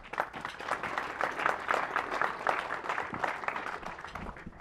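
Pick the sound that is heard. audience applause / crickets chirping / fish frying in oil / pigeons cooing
audience applause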